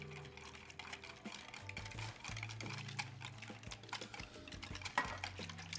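A whisk beats extra virgin olive oil into a dressing in a bowl. Soft, quick, rhythmic clicks and taps of metal on the bowl run steadily and faintly over a low background hum.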